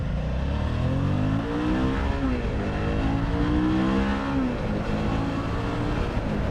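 The engine of a 2019 Suzuki V-Strom 650 Adventure motorcycle accelerates with a steady, close, continuous drone that rises and falls in pitch through the gears, heard alone for several seconds.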